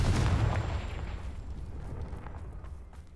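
A single Confringo fire spell in the Hogwarts Legacy video game bursts with a deep, rumbling blast at the start, then trails off into a fading fiery hiss.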